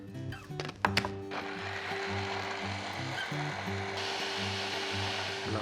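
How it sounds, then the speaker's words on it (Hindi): A kitchen blender whizzes a mix until smooth, starting after a few clicks and a rattle, then a steady motor whine that holds for several seconds without talk. "now we gonna put it in the blender and Vij it till it is nice smooth"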